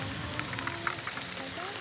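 Heavy rain falls steadily in a constant, dense hiss with scattered droplet patters, moderately loud and close.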